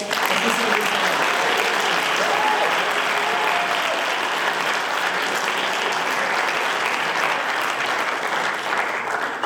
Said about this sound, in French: Et je pense qu'on peut les applaudir, applaudir tous les formateurs qu'il y a dans les associations.